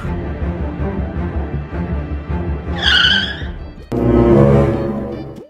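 A car brakes hard on a road, with tires squealing briefly over the engine's drone before an abrupt loud thump and rattle as it stops, close by.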